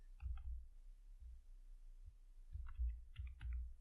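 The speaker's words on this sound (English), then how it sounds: "So here I'm going to type wealth" Soft clicks of a computer keyboard being typed on in two short bursts, faint and close, with low thumps between them and no talking.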